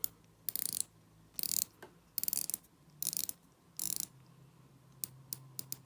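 Unidirectional dive-time bezel on a Heimdallr Ocean Monster dive watch, ratcheting in crisp close clicks: bursts of rapid ticks at irregular intervals, then a few single clicks, with no talk.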